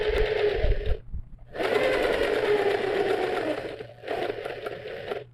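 A sewing machine runs a slow straight stitch along a backpack, a steady close mechanical whir in long runs broken by two short pauses.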